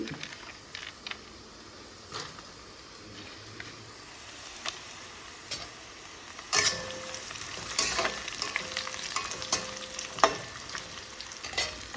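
Ginger, garlic and cashews sautéing in a pan for a paneer butter masala premix, a low steady sizzle broken by scraping stirs and sharper clinks of a spoon that grow busier toward the end, close and without speech.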